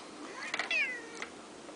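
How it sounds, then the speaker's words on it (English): A hungry house cat meowing to be fed, one drawn-out meow with a shorter call after it, close and fairly quiet in a calm room. "my cat really wants to be fed"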